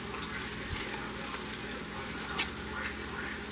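Onion sautéing in olive oil in a pan, a steady broadband sizzle close by with a brief clatter partway through and no talking.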